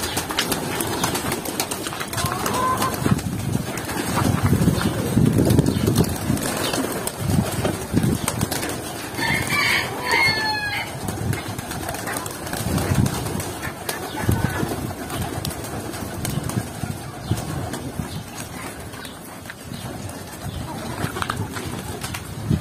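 Baku pigeons coo softly and flap their wings now and then in a loft, with someone talking and background rustling throughout.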